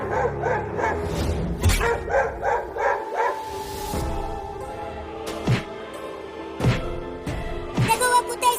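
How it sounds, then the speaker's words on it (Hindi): Cartoon dogs bark aggressively in front of a wooden house, a run of loud, repeated barks and yips over a steady tonal background. "वो कुत्ते उस लकड़ी के घर के सामने भौंक रहे हैं"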